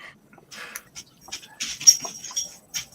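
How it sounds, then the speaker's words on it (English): A dog whimpers in a series of faint, high, thin whines and snuffles near a microphone, with brief pauses between cries and no talking. "No, that's the dog."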